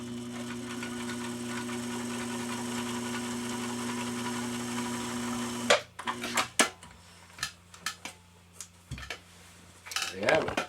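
A model 1222 SE sewing machine stitches through doubled-thick fabric, running with a steady mechanical hum for several seconds, then stopping into a series of separate clicks and clunks from handling the machine.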